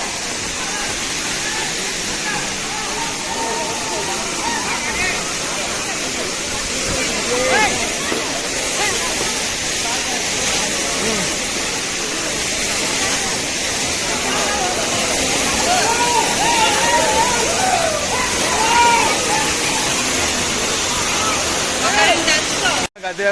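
Rushing water at the Gandahati waterfall in Gajapati District gives a broad, steady roar throughout, with people talking and calling faintly over it.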